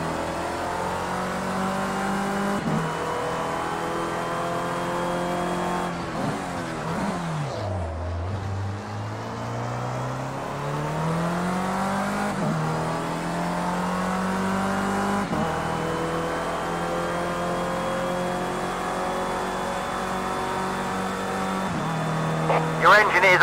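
A failing Formula C race car engine at Donington in the video game Project Cars 2 drones with rising and falling revs, one pitch dipping sharply then climbing back, loud and continuous with a rough, strained tone.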